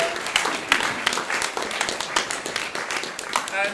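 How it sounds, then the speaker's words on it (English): Scattered audience applause after a talk, loose irregular claps of moderate loudness with some voices mixed in. "A big round of applause for yourselves"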